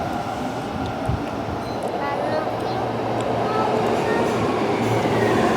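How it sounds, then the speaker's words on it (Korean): An Osaka subway train rumbles and roars steadily into a station, growing louder throughout, with people talking over the noise. "이제 지하철 온다"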